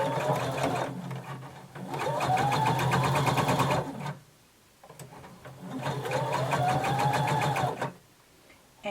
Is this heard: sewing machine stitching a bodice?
yes